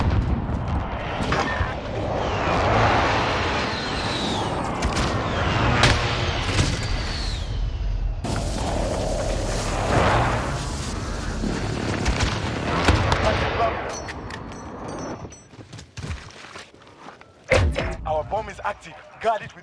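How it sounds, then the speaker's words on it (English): Video game combat with a precision airstrike: dense, continuous booms, thuds and gunfire fill the scene, with a voice talking over the chaos before the barrage thins into scattered shots. "precision airstrike on the way."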